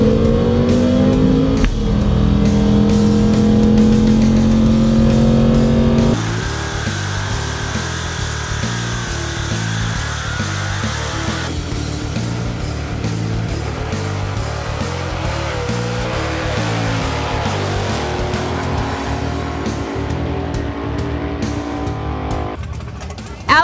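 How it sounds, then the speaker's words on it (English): Original 1955 Chevy drag car at Atco Dragway driven in stock eliminator racing: a loud, sustained engine drone heard from inside, shifting in pitch as it accelerates, with gear changes and a steady mechanical rasp throughout. "an original 1955 Chevy that is racing here today at Atco Dragway"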